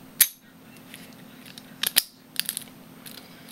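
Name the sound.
padlock being picked by wiggling the pins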